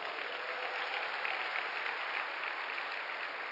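Congregation at a Sunday church service applauding together, a steady, even wash of clapping at a moderate distance with no pauses.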